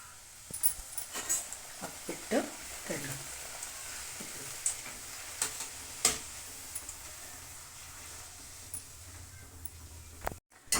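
Balloon-shaped hotel-style bhature fry in hot oil with a steady, soft sizzle and scattered sharp crackles and pops, close by, with a voice faintly present at times.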